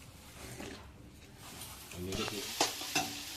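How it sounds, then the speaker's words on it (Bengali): Fried rice stirred in a pan over steady sizzling frying, with scraping strokes and a couple of sharper clatters near the end, while people talk in the background. "ভাত ভাজা তোমার জন্য করছি ভাত ভাজাটা করছি"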